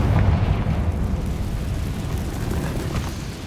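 A Confringo blasting spell explodes in the game Hogwarts Legacy, a loud, dense rumbling blast that rolls on as a sustained roar throughout, with no voices.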